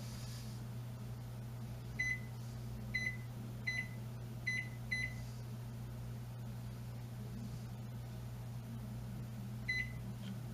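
Kitchen oven timer set during home cooking, sounding as short electronic beeps: a row of quick single beeps over a few seconds, then one more later, faint over a steady low hum of kitchen machinery.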